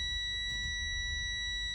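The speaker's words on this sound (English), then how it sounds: "Okay, my low warning and buzzer light" A truck's low air pressure warning buzzer, triggered at 64 psi during an air brake test, drones continuously at low volume, steady and high-pitched over faint engine rumble.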